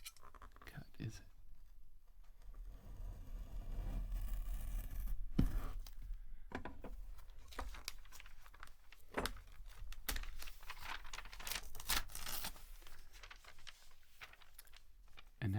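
Magazine pages clipped with scissors and torn in a close, quiet ASMR setting, with soft crinkles, snips and ripping bursts scattered over faint whispered talk.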